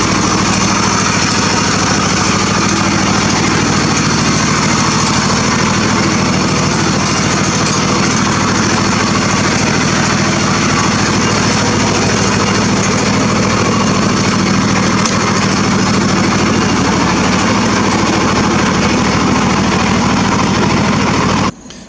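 A John Deere tractor fitted with dual wheels drives onto a trailer, its engine a loud, steady drone with a buzzing mechanical whine, running without pause and ending abruptly.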